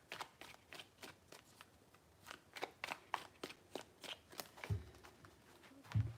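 Tarot cards are shuffled by hand in a quick run of crisp riffling flicks, close and fairly quiet, ending with a couple of soft thumps as the deck is set down.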